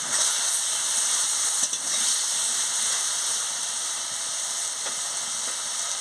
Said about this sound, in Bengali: আমি আনাজটাকে ভালো করে কষিয়ে নিচ্ছি